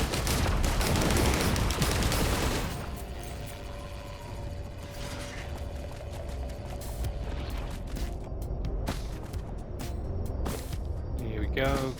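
Automated turrets fire in the Risk of Rain 2 video game: a loud rattling barrage at first, then lighter mechanical clicks and scattered shots under a voice talking.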